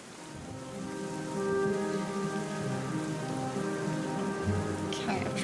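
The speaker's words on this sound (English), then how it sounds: "But that is a lot of rain." Heavy rain pours steadily in The Black Mirror (2003) adventure game, a dense continuous patter under a faint sustained musical drone.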